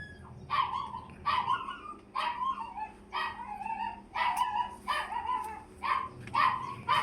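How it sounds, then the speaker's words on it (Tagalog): A dog barks repeatedly at a steady pace, about nine sharp barks in a row, moderately loud against a quiet background. "maingay yung aso ng kapitbahay"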